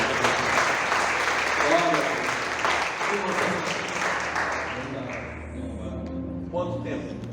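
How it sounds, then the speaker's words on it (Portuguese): A church congregation applauding at a conference service, a full, loud wash of clapping that slowly thins out toward the end. A voice speaks over the applause. "Vamos aplaudir o Senhor."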